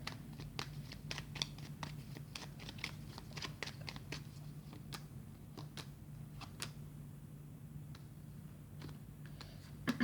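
Tarot cards being handled and shuffled close up, a steady run of soft flicks, taps and riffles over a low steady hum, with no voices.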